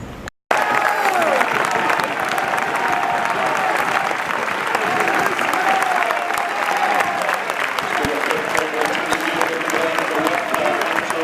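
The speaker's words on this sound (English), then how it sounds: "Bigger crowd inside Broadwood Stadium today, and the atmosphere's cranking up a bit." Football crowd at Broadwood Stadium during a Clyde versus Edinburgh City match, with steady applause and cheering filling the stands throughout, loud and continuous with a brief dropout near the start.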